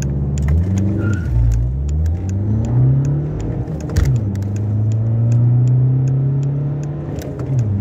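A Volkswagen Golf accelerates hard from 0 to 100, its engine note climbing through several gear changes with brief dips between shifts, loud and close, with clicks and rattles over the roar and no talking.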